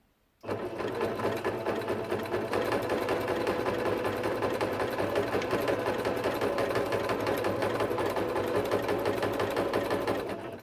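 Sewing machine starts up and runs steadily at speed, a rapid mechanical clatter with a continuous hum, close and fairly loud, then stops.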